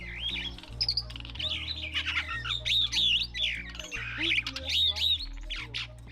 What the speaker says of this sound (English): The birds in this aviary, by the way, are the Von der Decken hornbill,